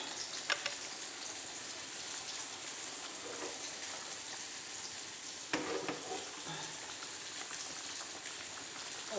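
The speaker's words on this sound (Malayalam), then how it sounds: "ഇതാ കറി നല്ലവണ്ണം തിളക്കുന്നുണ്ട്. നമുക്കൊന്ന് ഇളക്കി വെക്കാം." Mackerel and mango curry boils in a pot, a steady close bubbling sizzle with a few scraping stirs of a spoon partway through, no voices.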